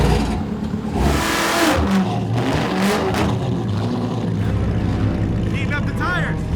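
A racing car revving to heat up its tires: a steady, loud engine drone that rises and falls over several seconds, heard close.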